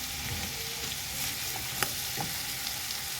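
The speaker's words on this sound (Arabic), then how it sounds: "هنزل عليهم بالايه بالطماطميتين اللي انا مقطعاهم كريهات" Sliced tomatoes frying in a pan for Egyptian sayadieh-style fish, a steady close sizzle and crackle with a few sharp pops and stirring scrapes, no talking.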